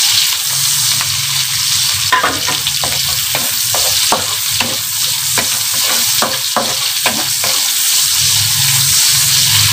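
Garlic, onion and ginger sizzle in hot oil in a pan, a loud, continuous close-up frying hiss broken by a series of regular scraping stirs through the middle.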